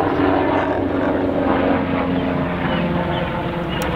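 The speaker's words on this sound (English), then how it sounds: "wait for the helicopter to go by." A loud, steady rotor and engine roar dominates throughout, a helicopter passing close overhead with a broad, rumbling drone.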